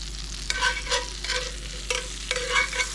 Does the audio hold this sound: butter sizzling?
yes